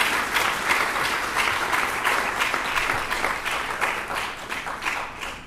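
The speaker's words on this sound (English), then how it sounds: "So let's give him a round of applause," Audience applause at a university forum, a full, even burst of many hands clapping that holds steady and then begins to taper slightly toward the end, close and loud.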